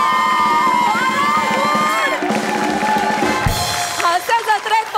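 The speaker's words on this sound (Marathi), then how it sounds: "जोरदार टाळ्या" A comedy-show audience in Maharashtra cheers and whoops loudly, with rising shouts and crowd noise swelling and then breaking into scattered bursts, and voices mixed in.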